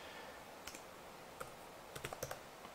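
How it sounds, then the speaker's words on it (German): Typing on the keyboard of an HP Spectre x360 laptop, a series of faint, scattered key clicks at close range with quiet gaps between bursts, no voices present. "Auf der Tastatur tippt sich relativ gut, hat einen guten Druckpunkt."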